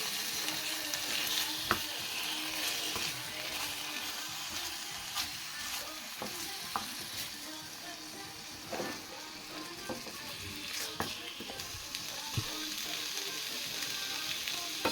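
Bacon-substitute strips frying in overly hot oil, a continuous dense sizzle and crackle with scattered pops and occasional scraping stirs, steady and close throughout.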